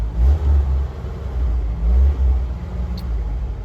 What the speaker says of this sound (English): Once it starts, just give it some revs, let it get warm.